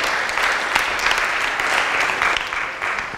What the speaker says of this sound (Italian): Un applauso ad Heidi.